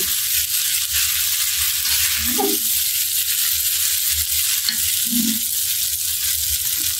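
Vegetables stir-fry in a hot pan for egg and vegetable chowmein noodles, with a loud, steady, close sizzle and two short scrapes of stirring.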